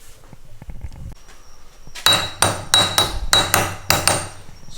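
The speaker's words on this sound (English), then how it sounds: "So them little pieces that won't scrub off, you can come out and tap them with a hammer" A hammer taps residue off a freshly melted scrap gold bar, six sharp metallic strikes in an uneven rhythm, each ringing briefly, after a few faint handling knocks.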